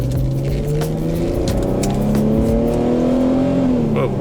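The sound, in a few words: Infiniti G35 coupe engine revving while downshifting manual transmission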